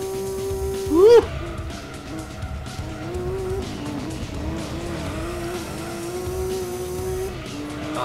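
A race car engine in Gran Turismo 2 drones steadily at high revs after a brief tire squeal, with a raspy, continuous whine throughout.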